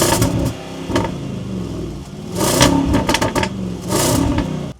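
A V8 engine with a sports exhaust revs hard in several bursts, rising to a loud roar and dropping back to a rumbling idle between them, close by.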